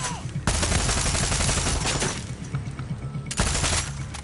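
Fully automatic gunfire from the video game Far Cry 6, loud and sustained in two dense bursts separated by a brief lull, close and harsh with no talk over it.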